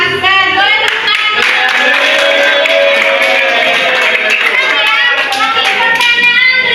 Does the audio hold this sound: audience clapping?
yes